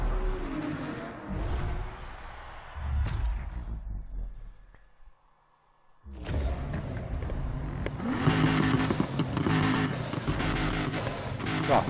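Race car engines roar and rev in the video game Need for Speed Heat, a loud steady drone that drops away to near silence for a moment, then surges back harder and brighter with no one talking.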